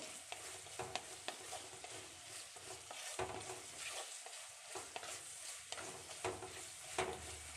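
Onions and shallots sautéing in a pan for a Kerala-style crab masala curry, a steady low sizzle with repeated light stirring scrapes throughout, no voices.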